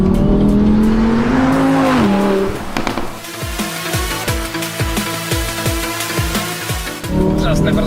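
Audi R8 V10 sports car driving, engine revving up loudly then dropping, followed by a rapid rhythmic series of sharp mechanical bursts as it accelerates, and a strong engine drone returning at the end.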